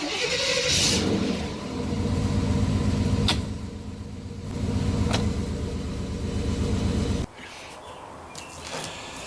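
A car engine fired by a push-to-start switch cranks and runs with a rough, pulsing drone, rising in two surges before cutting off abruptly near the end.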